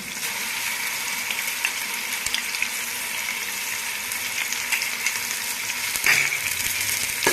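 Chicken masala with ginger garlic paste frying for a chicken dum biryani, giving a loud, continuous hissing sizzle close by with occasional stirring scrapes and a brief sharp spatter near the end, no talking.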